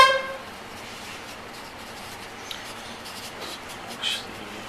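Green pastel scratches across paper during drawing, a soft, continuous gritty rasp with faint strokes and occasional slightly louder scrapes throughout.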